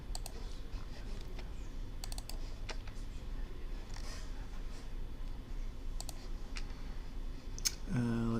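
Computer mouse clicks while working in Revit 2018 software: a handful of sharp, light clicks scattered irregularly over a steady low room hum, close by and fairly faint.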